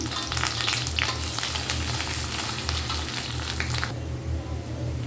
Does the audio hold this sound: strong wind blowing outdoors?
no